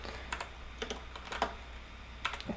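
Scattered keystrokes on a computer keyboard while code is entered, close and soft, with single taps and small clusters separated by brief pauses against a quiet background hum.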